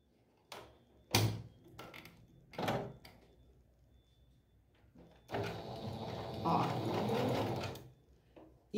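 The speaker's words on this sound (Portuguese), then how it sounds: "Já botei a máquina no zigue-zague." A sewing machine set to zigzag stitch sews bias binding along the edge of a floral mosaic rug. A few thumps and handling knocks come first, then the motor runs steadily and loudly for about three seconds, with some talk nearby.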